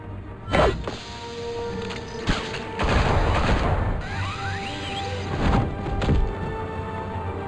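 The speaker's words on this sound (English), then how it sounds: "It's Batman! Shoot him" Gunfire and impacts from a fight in the Batman Telltale Series video game, a loud burst of shots, heavy thuds and whooshing hits in quick irregular succession, with a brief shout among them.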